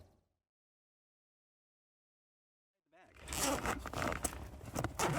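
A zipper on a Summit Creative camera bag is pulled open after a stretch of near silence, a loud close rasping run lasting a couple of seconds.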